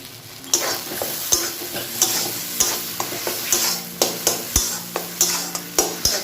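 A taro flower dish frying in mustard oil while a spatula scrapes and stirs it in a pan, loud regular scraping strokes about once a second over a continuous sizzle.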